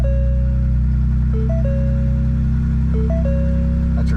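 Ford Bronco Raptor fitted with an SPD exhaust and downpipes idling right after a cold start, a steady deep drone held throughout while a few short electronic chime tones sound over it.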